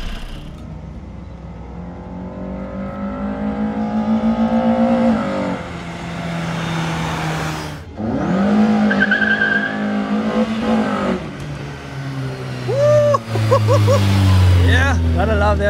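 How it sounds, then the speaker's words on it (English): A VW MK1 fitted with a 272 cam revs hard in repeated bursts, its engine note climbing and dropping between pauses, loud and close. Voices are heard briefly over the engine near the end. "let's do a sound test on the car"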